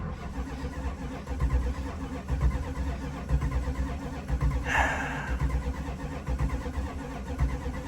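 A 1979 Chrysler 300 engine runs rough with a skip, a steady close mid-low rumble with uneven pulsing throughout and a brief brighter burst midway, no talking.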